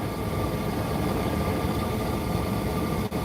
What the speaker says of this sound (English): Well, there's 3 diesel engines.